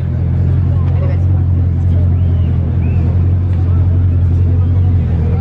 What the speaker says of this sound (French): Et il y a une Chiron qui arrive, une autre.